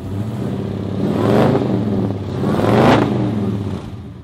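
A hydrogen-fueled hot rod engine revs up twice with a throaty exhaust roar, rising and falling at close range with no talking.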